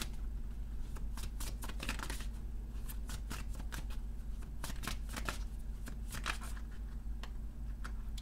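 Tarot cards being shuffled and flipped, repeated crisp riffling bursts and light slaps in irregular clusters, close and clear over a low steady hum.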